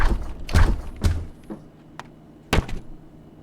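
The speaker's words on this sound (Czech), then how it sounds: "co to je za agresivní otevírání ledničky" A series of heavy thuds and bangs, like a refrigerator door being yanked open and knocking hard, with a few sharp impacts spread across the moment.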